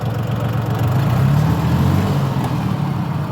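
Diesel loader tractor engine running steadily up close, a constant low droning rumble with no pauses or speech.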